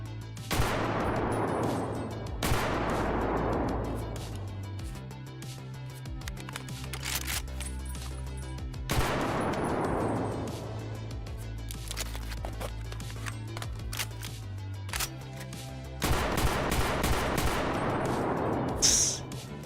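Repeated bursts of automatic rifle fire in Escape From Tarkov, with a hot muzzle brake, ring out in several long volleys separated by short pauses and clicks, loud and close, with a low steady hum underneath.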